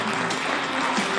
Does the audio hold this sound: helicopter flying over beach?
no